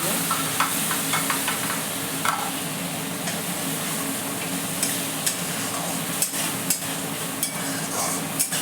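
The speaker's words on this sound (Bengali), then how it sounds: "আমি এবার দই আর পোস্ত, কাজু বাদাম সব দিয়ে দিচ্ছি।" Yogurt, poppy seeds and cashews hit hot oil in a pan and are stirred, producing a continuous sizzle with repeated spoon scrapes and clicks against the pan, close and steady.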